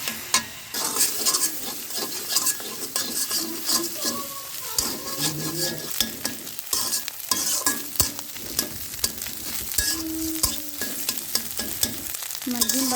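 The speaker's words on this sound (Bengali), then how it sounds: "ডিম দুইটা দিয়ে দিচ্ছি আর একটু লবণ দিয়ে দিলাম একটু হলুদের গুঁড়া আর ডিম লবণ দিয়ে দিচ্ছি আমি" Two eggs seasoned with salt and turmeric powder fry in a pan, giving a busy, steady sizzle broken by frequent scraping and clinking stirs of a utensil against the pan, with no voices.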